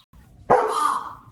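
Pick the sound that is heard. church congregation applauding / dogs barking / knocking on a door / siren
dogs barking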